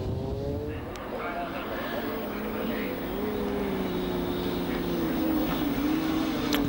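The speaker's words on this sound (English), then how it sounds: "Snicks it through the gears." A road-racing motorcycle at the 1998 Scarborough International Gold Cup Final, its engine note rising and falling as it is shifted up through the gears, loud and continuous, heard under a commentator's voice.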